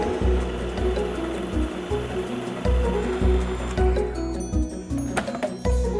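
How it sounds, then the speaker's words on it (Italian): A kitchen mixer blends ricotta into a smoother filling for a rustic pizza pie, giving a steady, close whir with a rhythmic low pulsing. It runs on without any talk. "Allora metto la ricotta nel mixer per raffinarla un po'."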